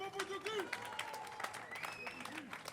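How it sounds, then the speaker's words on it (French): Audience applause for a departing guest on a French radio show, broad steady clapping through the whole stretch, with voices and tonal sounds riding over it. "Applaudissements pour Monsieur Potiocu."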